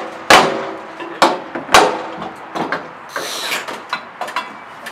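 An axe strikes a door-opening tool during forcible entry practice, giving a series of sharp, loud metallic impacts at irregular intervals. Fainter knocks and scraping follow in between.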